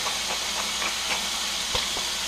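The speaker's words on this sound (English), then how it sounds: "I bet you can hear that sizzling." Steady, dense sizzling of potatoes frying in a hot pan, with small pops and crackles scattered through it, close and continuous.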